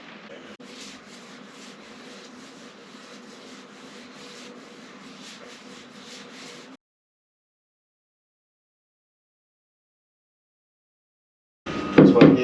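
Sanding of wood on a boat under rebuild, a steady close rasping rub for about seven seconds, then silence, then a short louder burst at the end.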